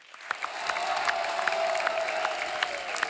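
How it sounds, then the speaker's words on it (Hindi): Studio audience at a comedy talk show applauding the guests, a sustained crowd clapping with a few sharper individual claps standing out and light cheering underneath. "जोरदार तालियां हो जाए इनके लिए।"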